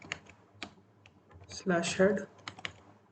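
Rapid computer keyboard typing while writing HTML code, bursts of close key clicks broken by short pauses, with someone talking over part of it.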